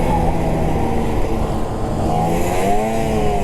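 A two-stroke snowmobile rides at steady throttle, its engine a loud, buzzy drone with pitch rising and falling as the sled surges across the snow, continuous throughout with no talk.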